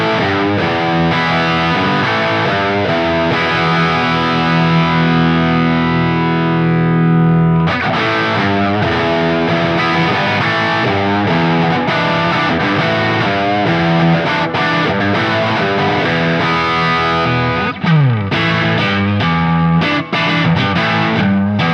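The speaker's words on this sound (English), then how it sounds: "let's go for a crunch sound" A PRS SE Custom 24 semi-hollow body electric guitar plays a dense, distorted crunch tone, loud and sustained, with strummed chords and riffs running continuously, a brief break near the middle and a pitch slide toward the end.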